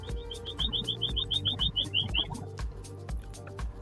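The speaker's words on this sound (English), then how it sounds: "I hear a bird." A bird gives a quick run of about a dozen high, evenly spaced chirps over roughly two seconds, then goes quiet, heard against a steady low indoor hum.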